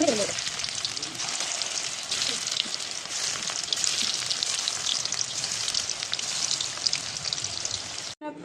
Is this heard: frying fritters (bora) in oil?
yes